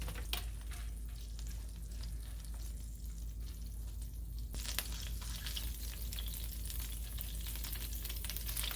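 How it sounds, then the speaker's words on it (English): A corn tortilla fries in oil over gentle heat, giving a steady soft sizzle and bubbling that grows brighter and busier partway through, with no talking. "Gonna fry the corn tortilla in oil, gentle heat."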